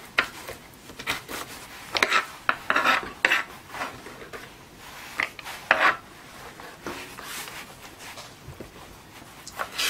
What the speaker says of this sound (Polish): Kroimy drobno w kostkę.